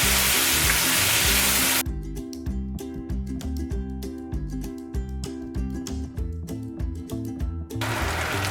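Corn kernels toast in hot bacon grease in a pan, a loud, steady sizzle and crackle that runs throughout, with dense popping spatter in the middle stretch, no voices over it.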